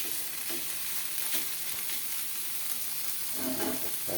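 Bitter gourd (ampalaya) with shrimp paste sautéing in a pan, a steady close sizzle and crackle throughout with a few stirring scrapes, heavier toward the end, no talking.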